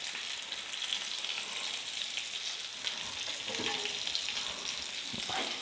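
Tawa fry chicken crisps on a hot griddle, sending out a continuous, even frying sizzle with faint crackles and occasional stirring scrapes and no talking.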